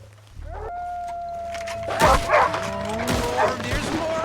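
Wolves in the video game Red Dead Redemption II howl in long wavering tones, then break into snarls, yips and barks that swell louder near the end, with speech over part of it.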